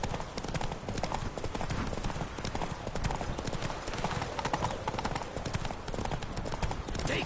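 Hooves gallop in a rapid, continuous clip-clop rhythm as a mount is pushed hard in The Witcher 3, steady and moderately loud throughout with no talking over it.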